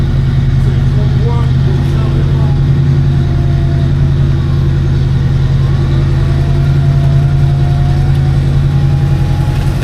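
A 1973 Delta 88 engine idles steadily just after being started, a low continuous rumble close by with faint variations and voices in the background.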